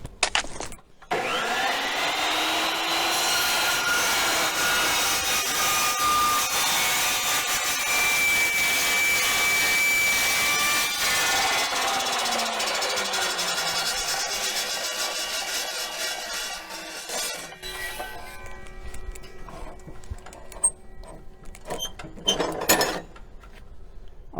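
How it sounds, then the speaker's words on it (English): A cold cut saw slices slowly through metal stock, a loud sustained grinding whine that holds steady for most of the cut, then winds down as the blade is left to stop, with a few clanks at the end. "We're going to engage the metal slowly, move through at the cutting speed of the tool, and when we're done, I'm going to let the blade stop before I lift it back up."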